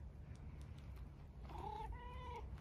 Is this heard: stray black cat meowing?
yes